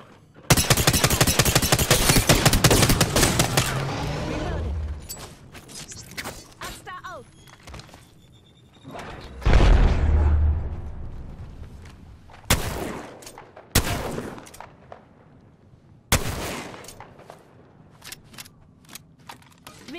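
Prowler SMG bursts in Apex Legends: a long dense stream of rapid automatic fire opens, then later short separate bursts punctuate quieter stretches, with mechanical clatter and game voice lines in between.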